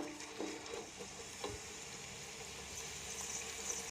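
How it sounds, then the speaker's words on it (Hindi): Onions fry in hot oil in a pot, giving a steady, close sizzle that runs throughout, broken by a few soft stirring scrapes and clinks. "सबसे पहले हम पतीली के अंदर ऑयल डाल के इसके अंदर प्याज फ्राई करेंगे।"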